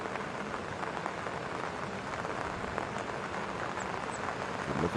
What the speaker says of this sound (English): The rain continues to pour on the coast in Ansan.